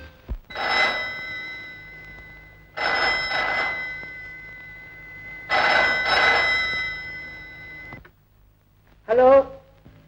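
A telephone rings in three long harmonic bursts at even intervals, fairly loud and close, before a voice briefly speaks near the end.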